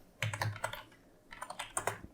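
Fingers type on a computer keyboard in two quick bursts of close, clicky keystrokes with a short pause between, and no voices.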